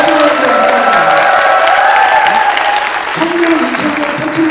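Audience applause at a Korean teachers' day ceremony, a dense sustained clapping from a crowd that carries on throughout, loud and continuous.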